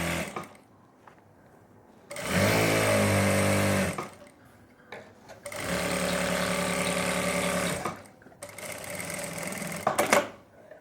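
An electric sewing machine runs in three bursts of steady, rapid stitching along the back seat seam of palazzo pants, loud and close, with short quiet pauses and handling clicks between runs.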